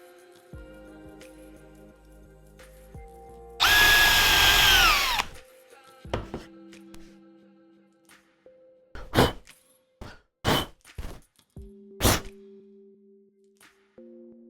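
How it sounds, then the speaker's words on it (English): An American-made brad point drill bit bores into wood in one loud, close whir of about two seconds. Several sharp wooden knocks and taps follow, spaced a second or so apart. "These are very good American-made brad point drills."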